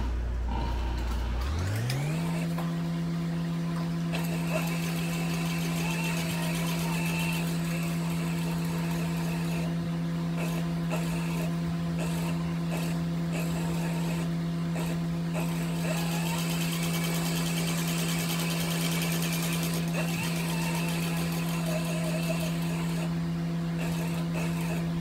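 A sewing machine motor stitching a sling bag, starting after a brief low rumble and then running steadily for a long stretch with a strong, constant hum and faint mechanical chatter throughout.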